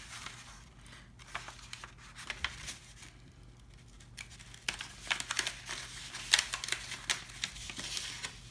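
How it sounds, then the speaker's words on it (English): Paper is cut along a line for a gingerbread-house craft lantern, giving faint, irregular crinkling and snipping ticks close by, building slightly toward the end with no talking. "I'm going to cut right along here"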